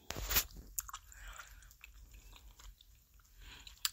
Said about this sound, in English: I can't chew like I want to.